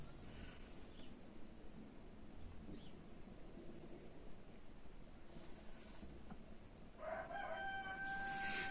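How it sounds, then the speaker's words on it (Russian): A rooster crows in the distance near the end, rising over a steady background hiss of wind or rain. "На заднем фоне петухи орут"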